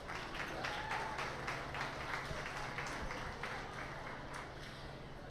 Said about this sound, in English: Please give a round of applause for our junior showman.